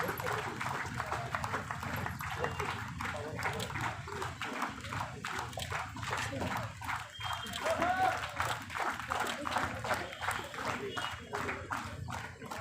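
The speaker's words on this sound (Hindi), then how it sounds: "तालियां बजती रहनी चाहिए, तालियां का कमी ना जोड़िए प्लीज" Sustained audience clapping fills the hall at the All Nyishi Students Union 40th foundation day celebration, a dense crowd applause continuing throughout with voices mixed in.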